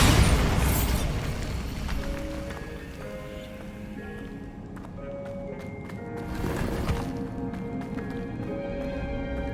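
Bombarda spell explosions in the Hogwarts Legacy video game: a broad burst near the start and another a little past the midpoint, rumbling over steady in-game music and ambience.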